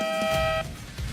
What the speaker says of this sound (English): It is now time for our off-court buzzer.